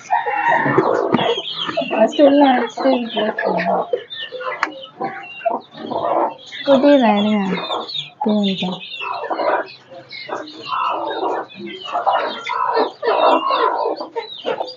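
Country hens on a small-scale poultry farm cluck repeatedly in short, busy bursts close by, with people talking over much of it.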